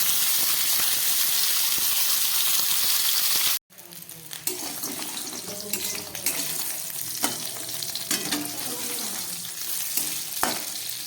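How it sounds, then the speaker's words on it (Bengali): Beans, potato and eggplant fry in a pan with a dense, loud sizzle, which breaks off suddenly and then returns as quieter crackling mixed with stirring and scraping. "খুব ভালো করে সবজিটাকে ভেজে নিচ্ছি।"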